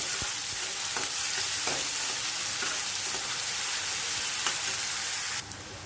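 Onion and curry leaves frying in a pan give a steady, dense sizzle throughout, with a few faint scrapes from stirring. The hiss cuts off abruptly near the end.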